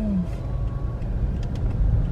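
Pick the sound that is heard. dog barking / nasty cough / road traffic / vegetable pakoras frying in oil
road traffic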